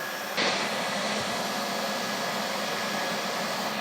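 A blacksmith forge runs with a continuous, loud, even roar of forced air, steady throughout apart from a brief swell near the start, with no talking.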